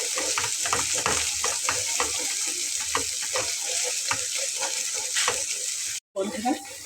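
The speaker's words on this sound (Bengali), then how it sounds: "বন্ধুরা মশলাটাকে একদম ভালোভাবে ভাজা ভাজা করে নিচ্ছি।" Spice paste stir-fried in a pan, a continuous close sizzle broken by repeated scraping strokes of a spatula, with faint background voices, cut by a brief dropout near the end before the frying resumes.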